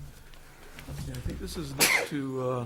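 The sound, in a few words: sneeze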